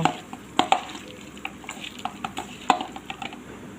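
Spiced singi fish being mixed by hand with raw oil and spices in a bowl: soft, wet squelching and stirring with a few sharp clinks against the dish, quiet and close.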